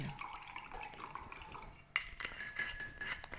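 Ice cubes being fetched in a home kitchen while making a sweetened drink, with glass and dishes lightly clinking and tinkling over a faint, steady background, a few sharper chinks standing out near the end.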